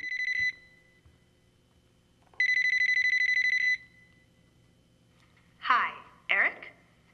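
A telephone rings with two electronic bursts, each a steady trilling tone, the second longer, followed by a couple of short fragments of voice over quiet room hum.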